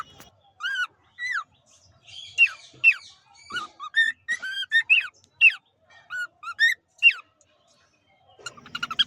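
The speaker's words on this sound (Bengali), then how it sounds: "এটি আমার কোকাটেল পাখি রিয়েল ভয়েস" A pet cockatiel calls close up in a series of sharp, rising whistles and squawky chirps, about a dozen bursts spaced irregularly over nine seconds, with only a faint rustle at the end.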